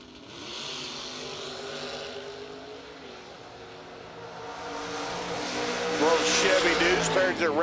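Drag racing cars, including a Firebird, roar at a racetrack, a broad engine drone that swells louder toward the end with a rising revving whine, heard from a distance under an announcer's commentary.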